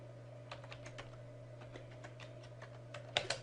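Computer keyboard clattering as a terminal command is typed, quick irregular keystrokes close and quiet, ending in a slightly louder cluster of taps.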